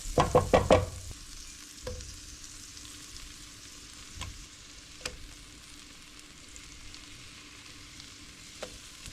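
Pierogi browning in a frying pan, opening with a loud burst of sizzling and clatter that settles into a quieter steady frying hiss, marked by a few sharp taps of a utensil against the pan.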